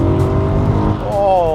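The V8 in a BMW M3 E92 coupe drones loudly and steadily, then climbs in pitch as it revs up near the end. Someone talks over the engine.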